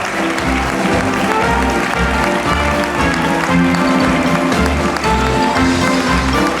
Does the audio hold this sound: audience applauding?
yes